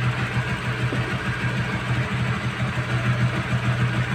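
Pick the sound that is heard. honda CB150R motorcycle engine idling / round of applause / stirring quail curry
honda CB150R motorcycle engine idling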